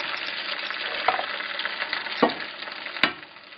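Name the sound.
eggs frying in pan beside potatoes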